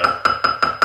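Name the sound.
soft plastic hammer tapping a silver cuff bracelet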